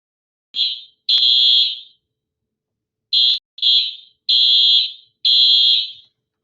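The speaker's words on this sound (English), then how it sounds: "My building alarm just went off." A building fire alarm going off, sounding loud, piercing high-pitched beeps in an uneven pattern of short and long tones with gaps between them, and no voices.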